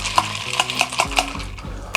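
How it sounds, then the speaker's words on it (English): A spoon stirs a cocktail topped with Gosling's diet ginger beer in a glass, giving a quick run of close metallic clinks and scrapes against the glass, loud and alone. "Give that a little stir."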